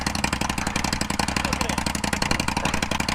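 Motorcycle with aftermarket exhaust pipes idling at a motovlogger meetup, a steady, loud, throbbing rumble with rapid regular pulses close to the listener throughout, no voices over it.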